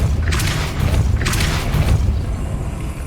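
The Depulso spell cast in the video game Hogwarts Legacy: two bright whooshing bursts about a second apart over a deep, steady rumbling drone, loud and close with no talking.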